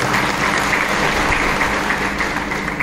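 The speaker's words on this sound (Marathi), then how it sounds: "एवढं तुम्ही जरा टाळी वाजवा" Crowd applause at a political rally, steady clapping from a large audience that stays loud and uniform throughout, with a faint low hum underneath.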